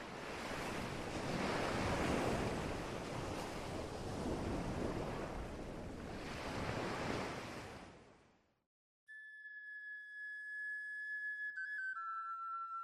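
Ocean waves wash onto a shore with a broad roaring surf hiss, swelling twice over several seconds before fading to silence, then giving way to steady whistle-like tones.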